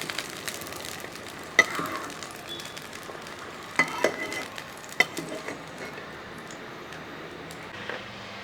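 Onions and tomatoes fry in hot oil in a pan, a soft steady sizzle with a few sharp clinks and scrapes of a utensil stirring against the metal.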